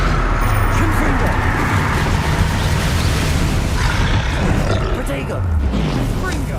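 An angry troll in Hogwarts Legacy roaring through continuous loud, dense battle noise, its deep growls blending with rumbling and impacts throughout.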